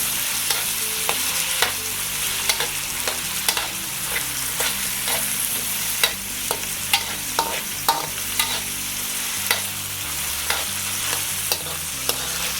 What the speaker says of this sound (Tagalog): Habang hinihintay po natin na maluto yung ating kamatis ay hahaluin lang natin siya ng hahaluin.